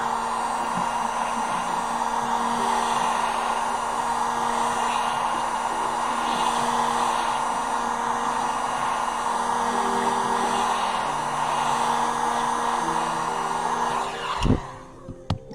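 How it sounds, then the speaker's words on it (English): A heat tool blows a constant, loud airy hiss while warming the edges of an iPhone 8 screen during a repair, running steadily before cutting off near the end with a couple of small knocks. "you're gonna make sure you heat up the edges."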